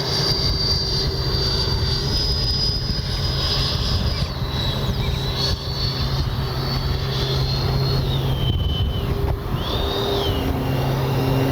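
An FMS 80mm F-86 RC jet flies with its landing flaps down, giving a steady loud ducted-fan whine and roar with a high tone that shifts in pitch as it passes overhead outdoors.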